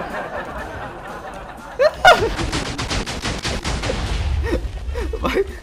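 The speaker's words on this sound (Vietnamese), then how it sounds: "cú này là pháo hoa đúng chuẩn luôn" Fireworks launched in the Minecraft video game go off as a rapid, dense crackling burst of pops after two sharper bangs, loud and continuous over several seconds with little background.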